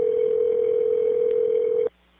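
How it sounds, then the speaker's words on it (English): Telephone line tone of an automated phone call, a loud steady single-pitch hum held for almost two seconds before cutting off abruptly into quiet line noise. "Automated phone calls checking their progress."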